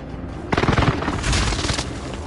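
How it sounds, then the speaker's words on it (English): Loud, dense blasts from a precision airstrike in Call of Duty mixed with rattling gunfire, a continuous rumbling barrage of booms and shots up close with no talking. "Allied precision airstrike incoming."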